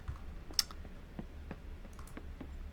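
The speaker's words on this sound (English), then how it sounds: "Behind it, I can hear the sound of footsteps, the clanging of typewriter keys." Typewriter keys clack in the video game Gerda: A Flame in Winter, a few faint, scattered clicks over a low background hum with one sharper strike early on, with no talk.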